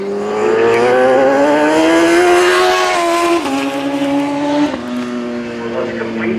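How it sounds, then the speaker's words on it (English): Superbike race motorcycles scream past on a circuit at Shannonville, Canada. A loud, continuous high-revving engine wail rises and shifts pitch through gear changes, with a commentator's voice over it. "charging in third place and the final position in this race"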